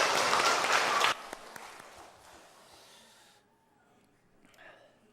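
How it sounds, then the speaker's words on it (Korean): A church congregation breaks into applause during a sermon; a loud burst of clapping in the first second cuts off, leaving faint room noise and breathing. "박수를 하나님께 영광 돌려드리겠습니다"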